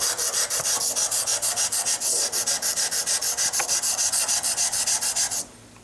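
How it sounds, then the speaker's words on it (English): Rhythmic back-and-forth rubbing of a Blum hand plane blade honed on an abrasive, about two strokes per second, bright and steady, with no talk, ending abruptly near the close. "So let's go ahead and hone this"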